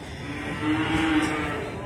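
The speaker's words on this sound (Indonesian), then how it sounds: "sapi betina yang ada di depan saya ini" A cow, a female animal with a poor right hind hoof, gives a low, sustained moo at moderate distance, fairly steady and unaccompanied by talk.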